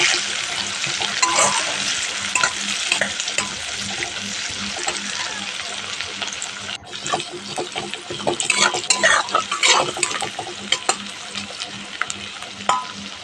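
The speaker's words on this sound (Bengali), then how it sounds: "রসুন কুচনো, ভালো করে এটাকে এখন নাড়ব।" Chopped garlic and ginger sizzle loudly in a hot pan while being stirred for a Bengali katla fish head moong dal, a steady crackling fry with scraping utensil strokes that grow busier and more uneven midway.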